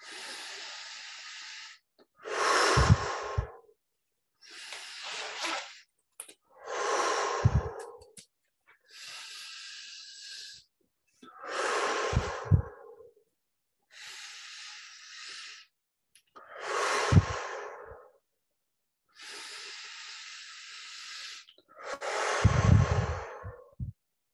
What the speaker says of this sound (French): on va prendre une dizaine de respirations profondes. On inspire par le nez, on expire par la bouche.